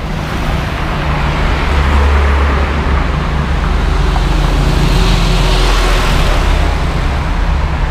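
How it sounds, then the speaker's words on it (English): Heavy traffic roars along a main avenue in Merida, Mexico: a loud, continuous rumble of cars and buses with engines droning and passing steadily, close by and without talk. "look at all this traffic."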